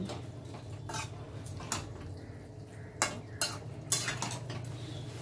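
Fried capsicum, tomato, onion and green chillies are stirred together in a pan, with metal utensil scrapes and clinks landing irregularly over a low, steady background hiss.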